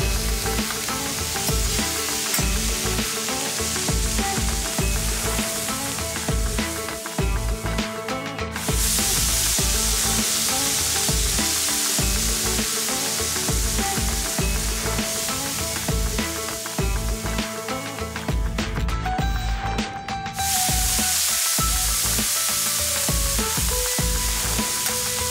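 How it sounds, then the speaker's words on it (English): Veal and onions browning in a frying pan with very little oil give a steady, loud, close sizzle and crackle, with occasional stirring and scraping, and no voices. "So I'm just going to brown off the rest of this veal till it's nicely golden"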